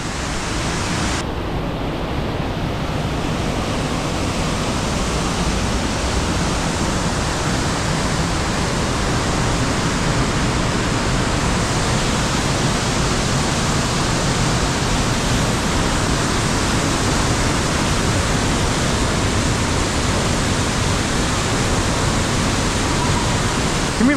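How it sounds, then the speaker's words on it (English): Waterfalls pour with a loud, steady, broadband roar that fills the entire span without a break, close by and alone, with no voices over it. "There's 2 waterfalls."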